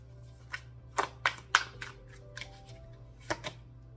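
Tarot cards being shuffled by hand: a run of soft, crisp riffles and taps comes in irregular bursts, quiet and close, over a low steady background hum with no talking.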